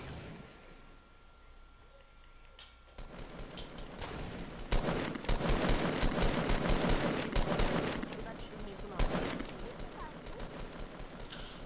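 Rapid bursts of Fortnite gunfire, sustained and fairly loud, starting after a quiet stretch and continuing steadily with brief pauses.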